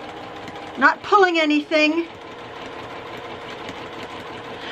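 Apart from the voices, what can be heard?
sewing machine stitching fabric down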